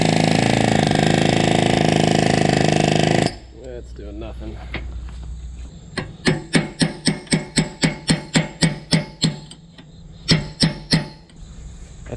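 Palm nailer hammering a rusted, seized PTO shaft after heating with a torch. A loud roaring burst fades out, then rapid metallic hammer bursts repeat in quick regular clusters, close up.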